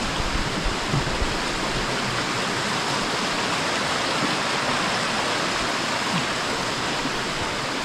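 A river rushes steadily near a beach at Heddon's Mouth in North Devon, a loud, continuous broadband roar of flowing water with no pauses.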